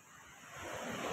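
Sea waves surge and wash at Freedom Beach in Thailand, a broad rushing roar that swells louder toward the end, mixed with wind noise buffeting the microphone, with no talk.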